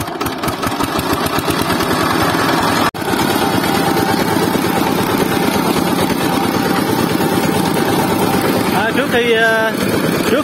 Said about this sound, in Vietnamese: bây giờ mình quay máy nổ nha các bạn